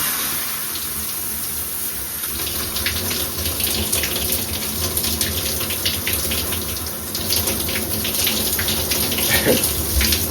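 Cold shower running in a bathroom, a loud steady spray of water with scattered splashes and small shifts in flow throughout.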